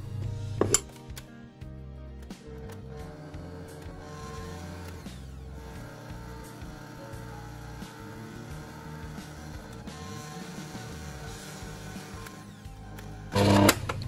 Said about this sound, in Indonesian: Kemudian kita mixer lagi sebentar